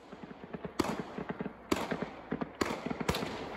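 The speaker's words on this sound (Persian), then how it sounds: "در یک فیلم میبینیم پلیس این کشور به پهپادها شلیک میکند" Police in Ukraine fire at Iranian-made drones: repeated sharp gunshot cracks come in quick clusters, punctuated by several louder, heavier bangs at regular intervals, with no voices.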